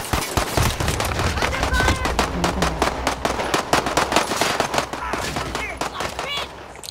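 Rapid automatic gunfire from a video game shooter set near a prison, dense bursts of shots crackling almost nonstop at high volume, with a voice talking underneath.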